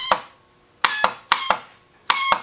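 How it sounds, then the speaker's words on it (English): A faulty starter solenoid on an Arctic Cat ATV clicks in sharp metallic pairs, four quick double clicks spaced irregularly, each decaying briefly, close and alone. "If your ATV solenoid sounds like this,"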